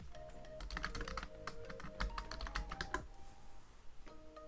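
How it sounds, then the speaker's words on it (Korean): Fast typing on a computer keyboard, a quick run of crisp key clicks entering a coupon stamp search, then a final keypress for Enter after a short pause, close and clear without talk. "도장 쿠폰을 입력하고 엔터키를 누릅니다"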